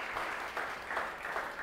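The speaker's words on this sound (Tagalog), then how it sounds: "The best mong palakpak para kay Jesus." A church congregation claps together during a Sunday service, a brief burst of dense, even applause filling the room with no voices over it.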